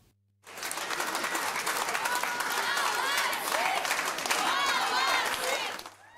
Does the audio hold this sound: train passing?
no